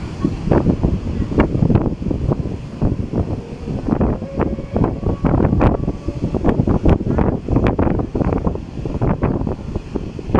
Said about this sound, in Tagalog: Sarap ng simoy ng hangin dito. Malakas.